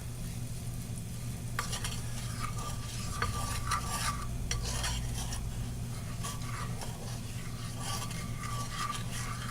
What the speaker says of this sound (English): Let's stir this around a little bit more.